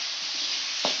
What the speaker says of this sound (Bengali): এবার আলুগুলো ভাজছি আমি।